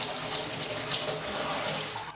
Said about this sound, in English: So what this will do is this turns it on. And then this is the temperature. And as you keep going, you see the pressure gets more.